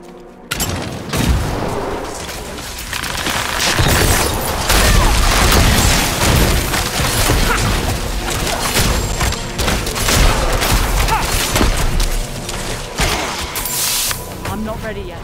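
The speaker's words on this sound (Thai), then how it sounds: "ระวังระเบิด" Dense, loud explosions and combat blasts from the video game Diablo IV rumble almost continuously, with crashing bursts layered over game music and voices talking throughout.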